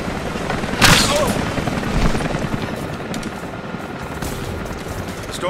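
Helicopter rotors from the Rise of the Tomb Raider video game during a prison camp escape mission, a steady loud whir under bursts of what sounds like gunfire, with a sharp impact near the start.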